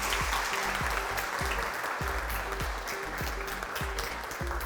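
Studio audience applause on a game show, steady dense clapping with rhythmic hand claps from a crowd, moderately loud and unbroken.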